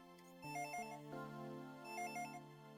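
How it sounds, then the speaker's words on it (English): A telephone rings in a living room in the Game Boy Advance game Dragon Ball Z: The Legacy of Goku II, a chiptune melodic ringtone in two repeating bursts, clear and alone. "the phone ringing in the living room"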